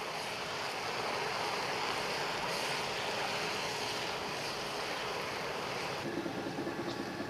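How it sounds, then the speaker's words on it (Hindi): Garlic and ginger paste fries in a hot pan, giving a loud, even sizzling hiss that runs unbroken from start to finish, close up, with no talking. "ये लहसुन और अदरक का पेस्ट है, ये अब इसमें डालेंगे। 2 मिनट इसको फ्राई करेंगे।"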